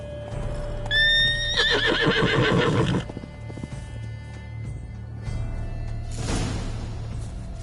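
Roach, the horse in The Witcher 3, lets out a loud, shrill neigh that wavers for a couple of seconds, followed by snorting and hoof clops against a steady game ambience.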